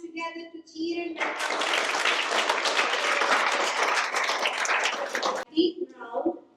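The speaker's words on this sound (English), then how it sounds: "Let's join our hands together to cheer and" An audience breaks into a burst of steady applause welcoming a speaker, lasting several seconds before cutting off, with a voice talking briefly before and after.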